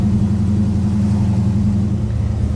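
A 1940 Chevrolet Super Deluxe engine runs while driving, a steady, loud, low throbbing hum that holds throughout without pause.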